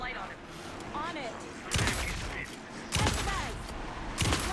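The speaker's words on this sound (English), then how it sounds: "Anderson, pin him down with gunfire for me to get the light on him" Bursts of gunfire break out in three loud volleys in Alan Wake 2, rattling over a noisy game soundtrack with voices shouting in the background.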